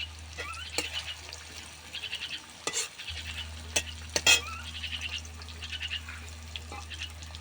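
A bay leaf dropped into hot oil for eid meat and lentil khichuri, giving a close, crackly sizzle with scattered pops and a few sharp clicks of a utensil over a low steady hum.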